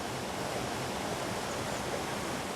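A waterfall in Wales roars as a steady, dense rush of falling water, close and loud, with no voices.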